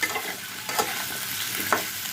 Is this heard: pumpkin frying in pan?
yes